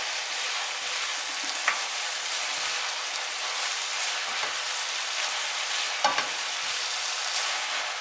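Minced beef and mushrooms fry in a pan, a continuous hissing sizzle with a few soft scrapes and knocks as the mixture is stirred, close and even in level.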